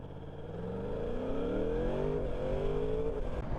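A 2023 Yamaha R1 engine revs upward under hard acceleration, its pitch climbing steadily and loud from up close, with no voices.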